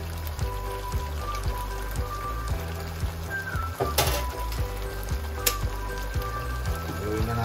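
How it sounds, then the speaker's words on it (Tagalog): Double cream hitting a hot pan of beef tongue and mushroom sauce, a steady close sizzle and bubbling with faint crackles and a few utensil taps throughout. "Mga mates, lagyan lang natin ang double cream."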